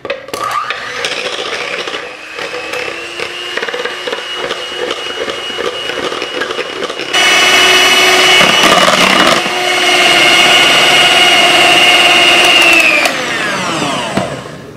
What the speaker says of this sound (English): Now I'll mix this all together.